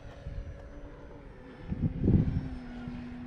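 A Carbon Z T-28 radio-controlled model airplane drones past outdoors, its engine faint and distant at first and then swelling briefly louder as it passes.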